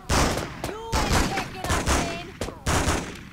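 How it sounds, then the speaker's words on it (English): Gunfire in the Spider-Man 2 video game as people shoot at each other, heard as repeated loud, sharp bursts of overlapping shots with short gaps between volleys. "a bunch of people shooting at each other"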